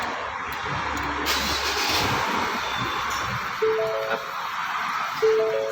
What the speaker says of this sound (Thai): ขอโทษนะครับเหยียบเบรกกดปุ่มสตาร์ทครับ